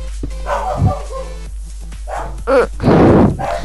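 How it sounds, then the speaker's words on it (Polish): A dog barks and yips nearby in short uneven bursts, loud and close, with whimper-like sounds between. "Przepraszam za psa."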